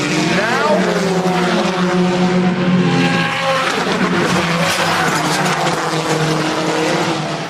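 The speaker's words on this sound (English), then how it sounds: "It's a sickening sound, isn't it, when that car goes into the wall" A BTCC touring car at Rockingham roars at racing speed with tyre squeal as it heads into the wall, loud and sustained beneath commentary over the race.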